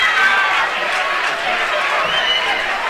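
Crowd at a girls' high school basketball district final between Prairie Grove and Farmington, a loud sustained roar of shouting fans filling the gym, with some indistinct voices within the din.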